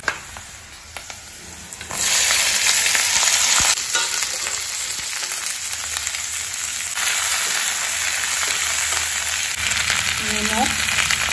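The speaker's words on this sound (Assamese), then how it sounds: "এফালে তেল গৰম হৈ গ'ল এতিয়া দিছোঁ পিঁয়াজ কুন্দুলি ভাজিম" Onions are dropped into hot oil in a home kitchen and begin frying. A sudden, loud, steady sizzle jumps up after a quieter start, with stirring noises running through it, close by and without voices.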